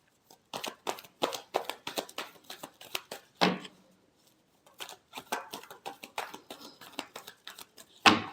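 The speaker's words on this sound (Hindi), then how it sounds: "Last shuffle." Tarot cards being shuffled by hand in quick riffling bursts, a run of crisp flutters, a sharper snap, a short pause, then more shuffling and a final loud riffle, all close and without speech.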